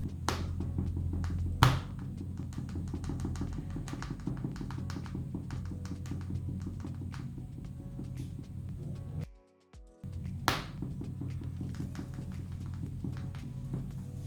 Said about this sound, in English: I'll be doing the scratch test with the 3 different types of thickness of the coins and the keys